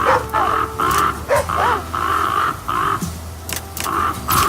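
Several crows caw in loud, repeated bursts through a game world in The Flame in the Flood, harsh calls overlapping in quick succession against a steady ambient bed.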